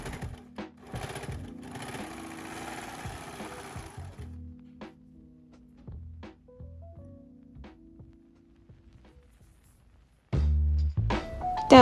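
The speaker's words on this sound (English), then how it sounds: "sew the usual with the base stitches and zigzag stitches then" A sewing machine stitching fabric for a cropped cache-coeur top, running in a steady mechanical rattle for a few seconds. Softer clicks and handling sounds follow, then a louder, heavier burst of machine noise near the end.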